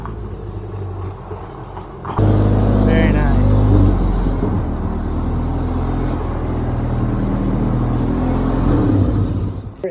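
A K-swapped Honda-powered Mazda B2300 truck rolls in, its engine rumbling loud and steady after a sudden rise, with people talking over it.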